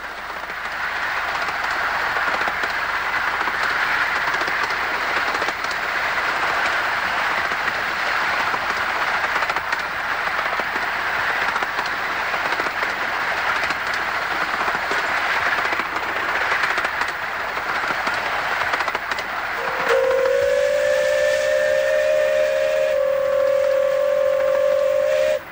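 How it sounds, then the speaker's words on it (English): A train rumbles steadily along the rails for a long stretch, slowing as it approaches the Burmarsh Road crossing, then a sustained whistle sounds loudly near the end. "the train now slows as it approaches Burmarsh Road."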